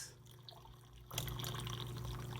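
Hot water pours from a tap into a measuring cup at home while preparing salt brine for fermenting vegetables, starting as a soft trickle and then turning into a steady, fuller rush of filling liquid after about a second.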